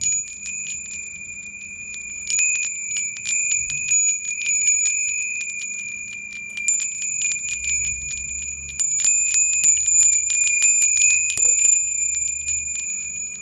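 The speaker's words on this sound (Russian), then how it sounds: "Три таких звоночка, изготовлены, я так понимаю, из металла, покрытые латунным каким-то сплавом." A metal doorbell made of three small brass-coated bells rings in bright, sustained chimes, with repeated jingling strikes that swell and fade nearby, alone without talking.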